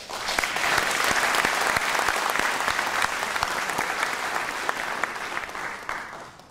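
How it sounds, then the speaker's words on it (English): A forum audience in Manila breaks into sustained applause, a thick even roar of many hands with a few sharper claps standing out, holding strong for several seconds before tapering near the end. "Let us give everyone here a round of applause."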